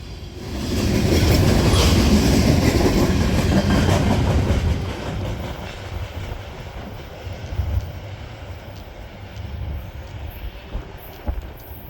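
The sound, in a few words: freight train 30T passing with freight cars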